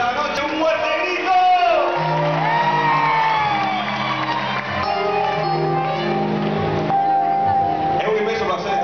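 Festival audience at a song contest final in Cabaiguán shouting, whooping and cheering continuously, a dense loud crowd roar with scattered voices rising above it throughout.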